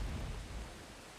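Steady rain with low thunder rumble in a naval roleplay video game, broadband wash loud at first then easing slightly, no voices.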